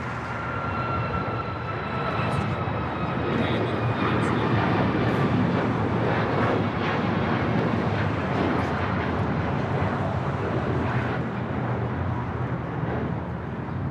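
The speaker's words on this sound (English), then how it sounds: "This is United Airlines 554 taking off to Cleveland, Ohio on a MAX 8" A United Airlines Boeing 737 MAX 8 takes off from Los Angeles International Airport with a loud, sustained jet roar that stays broad and steady throughout. Faint whining engine tones sit above the rumble.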